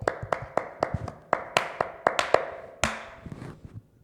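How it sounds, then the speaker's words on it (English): A few people clap their hands in short, irregular bursts of sharp, close slaps, with some claps landing together and a small trailing flurry near the end. "So you'll be a quarter of a century this year, 25. Clap it up."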